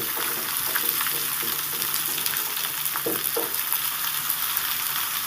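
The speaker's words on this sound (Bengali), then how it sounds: "এবার দেখুন আমি নেড়ে চেড়ে ঝিঙে আর পেঁয়াজটাকে সুন্দর করে ভেজে নেব" Ridge gourd and onion stir-fried in a pan, a steady close sizzle of frying with occasional scraping stirs, alone without voices.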